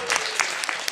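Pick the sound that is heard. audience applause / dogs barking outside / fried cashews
audience applause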